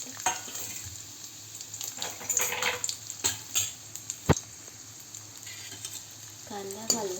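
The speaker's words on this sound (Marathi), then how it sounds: "कांदा घालून त्याला थोडासा परतून घ्यायचा आहे, जास्त नाही" Onion fries in a small spoonful of hot oil with mustard seeds, green and dried red chilli, making a continuous sizzle broken by stirring clatter and one sharp utensil tap.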